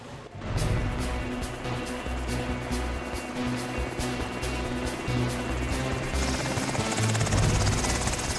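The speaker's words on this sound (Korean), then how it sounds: "헬기를 이용해 작전 지역으로 이동, 공중 침투를 하게 된다." Military helicopter flying overhead carrying special-forces troops toward an operation area, its steady rotor thump and turbine whine loud and continuous from start to finish, with no talk.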